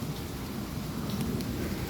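Steady rain pours at San Diego Zoo in Balboa Park, a dense, even hiss of drops hitting surfaces close by with no voices.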